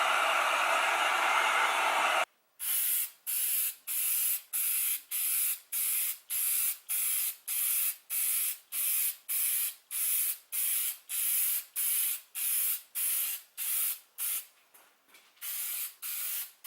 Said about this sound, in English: we're going to put clear coat on it.